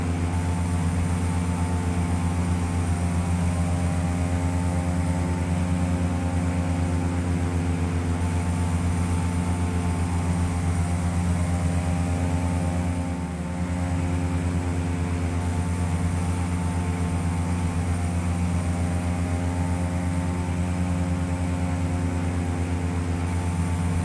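A Carenado C208B Grand Caravan turboprop cruises in the Prepar3D flight simulator, its engine and propeller making a constant layered drone that dips briefly midway.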